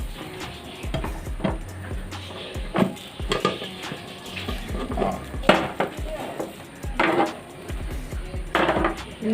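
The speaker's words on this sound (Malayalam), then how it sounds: "ഇനി നമുക്ക് ഇതേമാതിരത്തെ ഒരു ഫ്രൈ പാനും കൂടെ എടുത്തതിന് ശേഷം കമത്തി ഇട്ടിട്ട് വേവിക്കണം." Banana pancake flipped using a second frying pan in a home kitchen: a series of sharp metallic clanks and knocks of pan against pan, close and irregular, with faint background noise.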